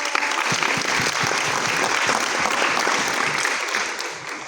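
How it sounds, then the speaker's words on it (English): Sustained audience applause at a Farmer Field Schools innovation session, dense steady clapping from a crowd that fills the whole stretch and eases slightly toward the end. "Let's give him a big round of applause"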